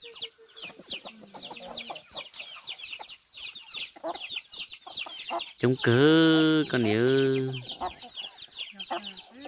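Chickens cluck busily on a farm with cattle nearby, a dense close chatter of short calls broken by one long, loud crow-like squawk in the middle, while a person speaks over the flock.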